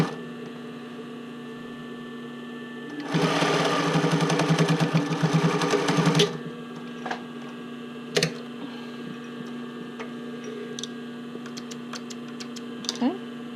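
Domestic sewing machine stitching a bra cup into the band, running in a steady mechanical burst for about three seconds over a constant electrical hum, followed by scattered small clicks and handling noises.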